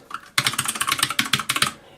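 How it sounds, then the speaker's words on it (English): Computer keyboard clicking in a living room with a PC, a quiet pause followed by a rapid run of crisp keystrokes, loud and close, ending with a few fading taps. "I'll go on about the actual clicking nature of the keyboard"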